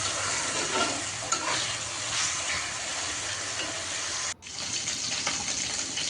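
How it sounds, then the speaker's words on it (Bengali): Sliced onions frying in a pan until crisp and brown, a steady broadband sizzle with stirring scrapes running the whole time, close and fairly loud, with one brief drop near the end; no talk. "এদিক দিয়ে মাংসটা দেওয়ার জন্য পেঁয়াজ বেরেস্তা করে নিচ্ছি"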